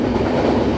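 A train rumbles loudly along the rails with a steady low roar and faint clickety-clack, heard up close from on board.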